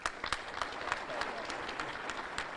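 Scattered applause from a crowd at a State of the State address in Monroe, Louisiana, a loose, fairly faint patter of claps with a few sharper close ones and murmuring voices beneath.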